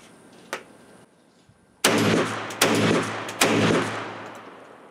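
A Browning Auto 5 shotgun with a 3D-printed forend fires three rounds of light target shot in quick succession, each blast loud and close with a ringing tail, preceded by a faint click.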